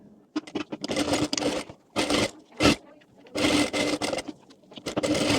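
Sewing machine stitching fabric while a co-ord set top is assembled, running in several short bursts separated by brief pauses, close and fairly loud.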